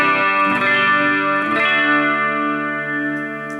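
A semi-hollow 2019-model Chinese-made electric guitar plays in a clean tone, with two strummed chords close together that ring out and sustain as they slowly fade.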